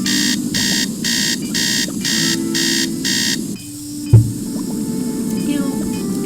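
Electronic alarm clock in the Nancy Drew: Treasure in the Royal Tower video game, beeping in six loud, evenly spaced pulses before stopping, followed by a single click and a quiet room hum.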